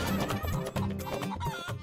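Hens cluck and squawk in agitated bursts as someone chases them around a village yard, a near, continuous flurry of fowl calls with a hint of a rooster.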